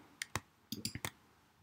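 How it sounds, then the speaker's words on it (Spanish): Several sharp computer mouse clicks while working in Illustrator, close and fairly loud, arriving singly and in a quick cluster of four, with silence between. "Clic para acá."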